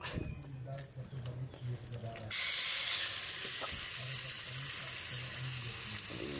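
Fish goes into a hot pan partway through, and a soft background murmur jumps to a loud, bright sizzle that carries on steadily and close. Faint voices and clinks come before the sizzle starts.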